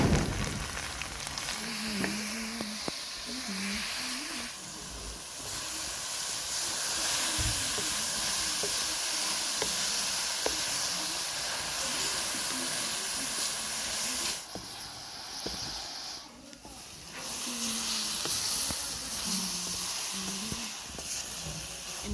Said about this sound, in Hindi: इनको हमने अच्छे से फ्राई कर लिया है